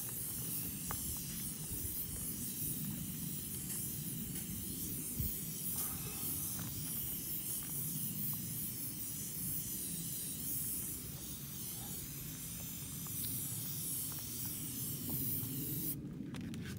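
Spray paint hisses continuously through a stencil onto an interior wall for a camouflage pattern, a close, steady airy hiss lasting the whole stretch with only slight pauses, and no voices.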